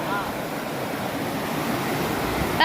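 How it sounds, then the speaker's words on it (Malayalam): Steady rushing river water roars continuously, a broad constant wash of fast flow with no voices over it. "ഇത്രയും ഒഴുക്കുള്ള പുഴയിലാണ് ഇവിടെ അമ്മയും അച്ചായും തുണി കഴുകുന്നത്"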